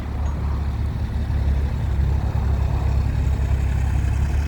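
A Kubota KX033 excavator's diesel engine idles steadily with a deep, constant low rumble and no revving.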